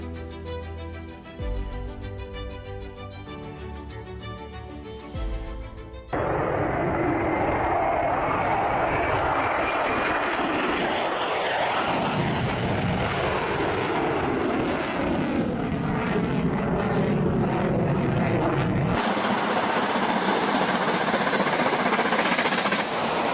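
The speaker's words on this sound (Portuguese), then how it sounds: "Parecia um trem de carga passando por cima de mim ou um avião a jato." A tornado gives a deep, continuous roar like a passing freight train or jet, building into a broad sustained rumble after a quieter musical opening and holding steady to the end, loud and near with no talk.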